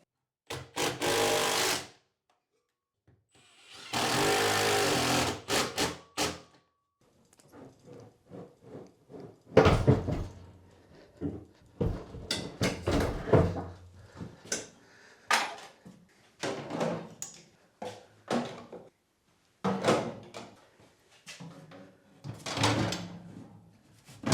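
Battery unpacked and mounted on a house wall for a 12000XP inverter install: bursts of rustling packaging, scraping and knocking of hardware, clunks and taps in an irregular sequence, fairly close, with no talk.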